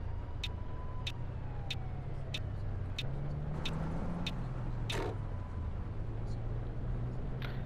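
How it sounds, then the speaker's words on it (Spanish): Faint, distant siren wail drifts over the low hum of a Neoplan Flixbus coach engine in Fernbus Simulator, accompanied by regular light clicking ticks. "Siempre se escucha una sirena, pero no se ven policías, no se ven que sea una ambulancia, bomberos, nada, solo el sonido."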